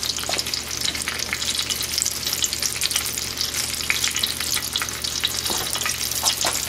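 Egg-battered chile relleno, a stuffed pepper, frying in oil: a dense, continuous close sizzle with crackling pops throughout, no voices.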